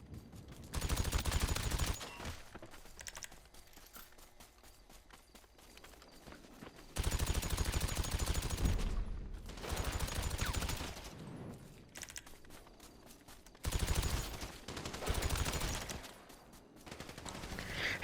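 Rifle gunfire in an online shooter airport fight, heard as several bursts of fairly distant automatic shots in three separate clusters with quiet gaps between, plus faint movement sounds and little talk.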